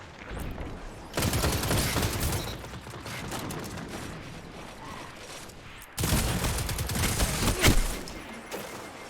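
Sustained automatic gunfire from a weapon in the shooter game Destiny 2, loud, dense bursts that fill most of the clip, breaking off briefly before another volley resumes.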